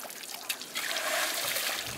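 Water trickles and splashes as a four-time national champion buffalo is bathed at the Pushkar fair, a short burst of sloshing and pouring close by that swells toward the end.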